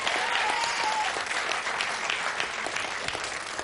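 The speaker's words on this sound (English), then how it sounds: "Give him another round of applause." Studio audience of a 1992 game show applauding a contestant, a dense, even wash of clapping that stays loud and continuous throughout.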